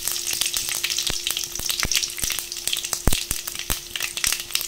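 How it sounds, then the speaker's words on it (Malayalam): Dried red chillies fry in hot oil with mustard seeds, a dense continuous sizzle punctuated by sharp crackling pops and spits, close and moderately loud, no speech. "നമുക്കിനകത്തോട്ട് ഉണക്കമുളക് ഇട്ട് കൊടുക്കാം."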